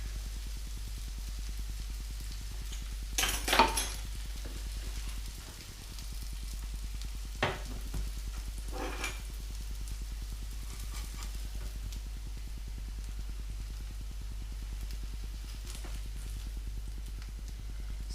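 Vegetable rostis frying in an oiled pan, a faint steady sizzle under a low hum, broken by a few sharp clatters and scrapes as the pan is handled.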